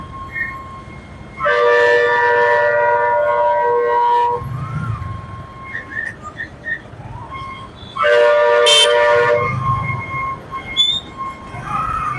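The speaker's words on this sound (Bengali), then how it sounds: "এটা খুব সম্ভবত চিটাগাঙের ট্রেন মনে হচ্ছে যাই হোক ট্রেন তার গন্তব্যে চলে যাচ্ছে" A passing train in Bangladesh sounds two long, loud, blaring horn blasts a few seconds apart over a background of rumbling traffic noise, with no talking.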